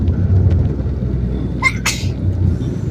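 One sharp sneeze from a person riding through the streets of Kertapati, Palembang, breaking over a steady low rumble of traffic and engine noise.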